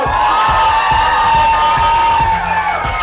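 Cheering and whooping from an audience at a school party awards ceremony, a loud, dense crowd roar sustained throughout with shouting voices on top.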